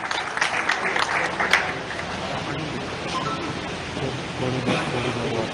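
Crowd applause rises at a live public event in Madhya Pradesh with Chief Minister Shivraj, a broad wash of many hands clapping, heavier at the start and then softening into a steady distant roar.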